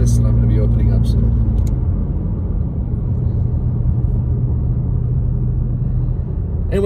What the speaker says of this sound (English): traffic isn't that bad. It's moving at a decent rate